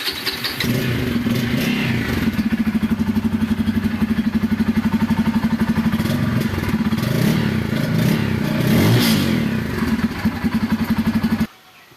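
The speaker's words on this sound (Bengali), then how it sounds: "গাড়িটার সাউন্ড যদি আপনাদের একটু শোনাই" A Bajaj Pulsar motorcycle engine, an N250 or N160, runs at a steady, close, loud idle with a rapid even pulse, rising into a brief rev near the end before it cuts off.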